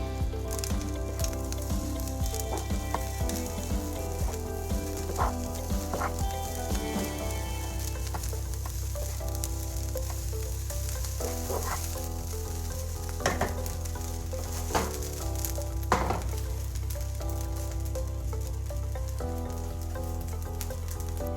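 Eggs fry with shrimp fried rice in a hot pan, a steady sizzle with scraping stir strokes running throughout, under continuous background music.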